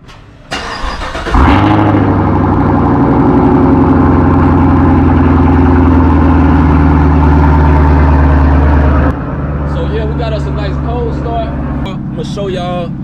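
A 2019 Camaro SS fires up from cold with a sharp crank and loud, deep roar that settles into a steady high idle, then drops to a lower idle while someone talks over it.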